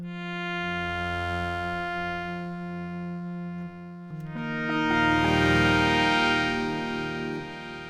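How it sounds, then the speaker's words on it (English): A sustained synth tone with rich harmonics and repeating echoes trailing each note, rising in brightness and loudness halfway through. "So now we just have a plain delay."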